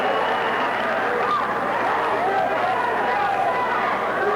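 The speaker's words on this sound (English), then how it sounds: "Listen to the crowd." Crowd at a 1991 Fairfield versus Lakota high school wrestling dual, a dense, steady roar of cheering and shouting filling the gym throughout, with voices blended into continuous noise.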